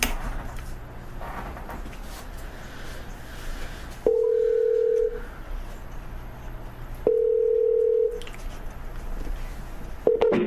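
A telephone sounds while a call connects. Two steady ring tones each last about a second and are separated by a pause, with a quiet hum underneath and a faint click at the end.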